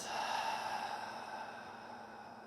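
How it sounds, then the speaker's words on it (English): One long, soft exhale out through the mouth during a vinyasa yoga session, close and breathy, fading gradually over a couple of seconds in a quiet room. "And exhale out through the mouth."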